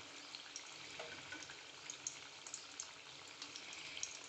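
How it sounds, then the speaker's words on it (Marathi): Vegetable cutlets fry in oil over a low flame: a soft, quiet bubbling hiss scattered with small pops and light crackles. "मी कटलेट सोडतोय आता."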